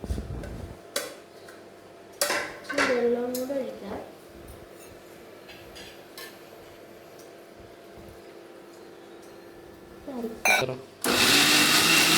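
A kitchen mixer grinder starts blending coconut for a Kerala-style dish, a loud whirring burst only at the very end, after a stretch of a voice talking, light clinks and quiet room sound.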